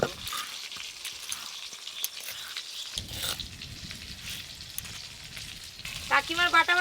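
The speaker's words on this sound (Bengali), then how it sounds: "একদম লাল লাল মচমচে করে ভেজে নিয়েছি।" Goldfish pieces frying in hot oil until red and crisp, giving a steady close sizzle with faint stirring and a brief burst of voice near the end.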